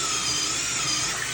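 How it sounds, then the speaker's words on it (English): A power drill turning an auger bit bores straight through wood while installing hardwood floating shelves, giving a steady, close, continuous high whine with no pauses and no talk. "See how easy it is with the auger bit? It goes in, drives it by itself."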